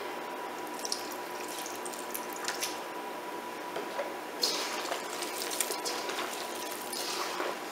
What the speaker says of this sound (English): So, add a little more milk. And a little more broth.